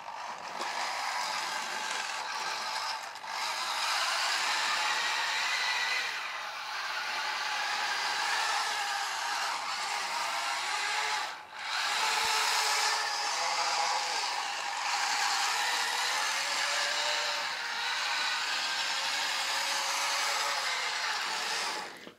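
Small motors driven by an L298N H-bridge controller whir in a steady electric hum, their pitch shifting slightly as they speed up and slow down, with a few brief dips.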